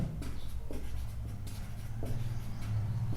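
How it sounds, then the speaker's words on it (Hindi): A pen writes on paper, giving a close, soft scratching in short strokes and pauses, over a steady low background hum. "इसमें जोड़ी बनाने के लिए मैं यहाँ लिखता हूँ क्वेश्चन 3 का हल"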